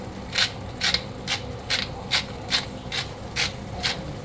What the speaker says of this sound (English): 15 cranks to the pepper mill.